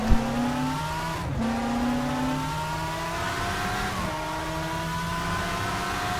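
A W12-engined Formula 1 race car in a racing video game, its loud high-pitched engine note holding steady and climbing through gear changes, with a short drop in pitch at each shift and no voices.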